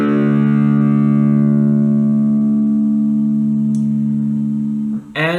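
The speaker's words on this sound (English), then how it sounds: "so your 6th string should sound like this" A single low sixth string on an electric guitar, tuned down to drop D, rings out as one sustained, distorted note that slowly decays over about five seconds before a brief squeak at the end.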